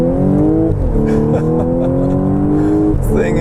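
A 2014 Audi S4 accelerating hard, its engine note climbing steadily in pitch with a brief dip at a gear change, loud and close from inside the car, with no talking over it.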